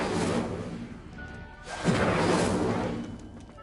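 A fire spell in Hogwarts Legacy bursts out with a whooshing rush and crackling flare, loud and close, swelling and then fading over a few seconds.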